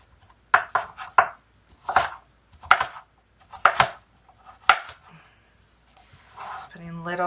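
An apple is diced on a board, giving a series of crisp, close knife chops in uneven bursts, followed by a brief voice near the end.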